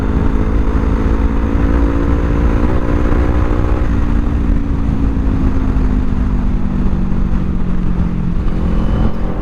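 A 2025 Kawasaki Ninja 500 motorcycle runs steadily at close range, its loud engine drone holding an even pitch that slowly drops as it cruises, with constant wind and road roar.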